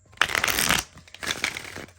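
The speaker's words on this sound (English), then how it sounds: "They shuffle nicely." A deck of normal-size tarot cards is shuffled close up, one loud riffling burst followed by a quieter second shuffle, with no talking.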